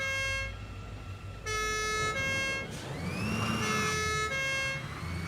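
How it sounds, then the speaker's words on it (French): A vehicle siren from the factory-building game Satisfactory wails in rising and falling electronic tones, repeating in sustained bursts that sound close and alone. "pour aller plus vite, on a la sirène"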